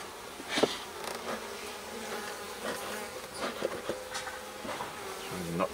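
Honey bees swarm around an open hive, making a continuous, close buzz with individual bees droning loudly past now and then. Soft handling noises can be heard underneath.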